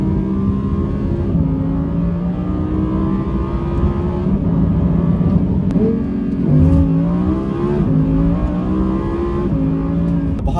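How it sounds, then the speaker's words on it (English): An Audi R8 V10 engine revs hard toward 9,000 rpm, its loud, close exhaust note climbing in repeated rising sweeps with brief drops between pulls, no talking. "it is addicting just to open it all the way up, send it to 9K revs, and let the car have it"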